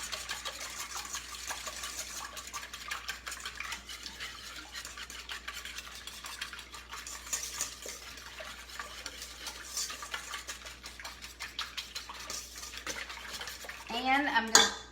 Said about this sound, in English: I'm going to whisk these together